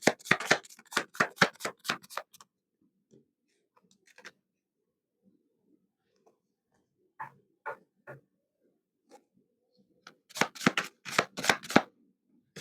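Tarot cards shuffled by hand in quick, crisp riffling bursts, a loud run at the start and another near the end, with a few soft card taps and handling sounds in the quiet stretch between.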